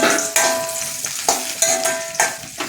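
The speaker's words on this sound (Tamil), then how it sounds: "சீஞ்சட்டியில் வெளிச்செண்ணெய் கொஞ்சமாக விட்டுருக்கேன். அந்த கத்திரிக்காய் வழுதனங்காயை ஒன்று வதக்கணும்." Brinjal sautéing in a little coconut oil in an iron pan, a bright steady sizzle broken by several sharp spatula scrapes and stirs, close up with no talking.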